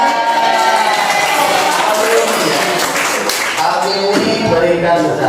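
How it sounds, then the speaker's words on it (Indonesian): Students clapping together in a classroom during a science lesson on acids, bases and salts, a dense, loud burst of applause mixed with voices and scuffling that carries through the whole moment. "Tepuk tangan."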